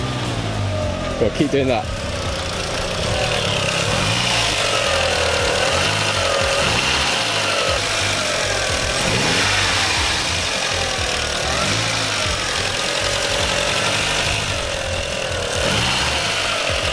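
A car engine fires up after a stutter of cranking, then idles and is revved repeatedly in rising and falling surges, close by, while people talk over it.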